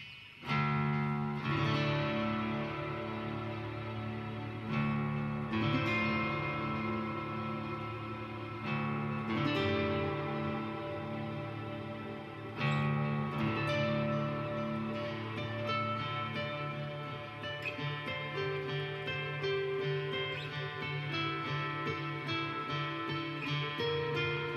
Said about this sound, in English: so this is the particle reverb